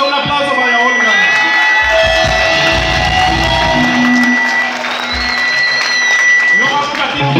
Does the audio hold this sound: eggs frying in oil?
no